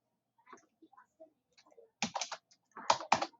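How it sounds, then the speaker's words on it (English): Soft keystrokes on a computer keyboard, first a few scattered light taps, then two quicker clustered bursts of clicking, close and quiet with no talking. "type in Chrome colon"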